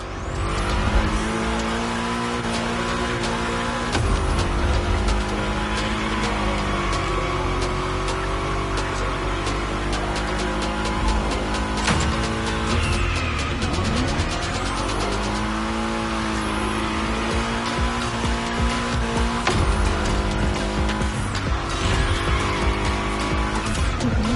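A car in the racing game The Crew Motorfest takes a series of bends, its engine droning loudly and continuously as the pitch rises and falls with throttle changes, with tire squeal woven through and no voices.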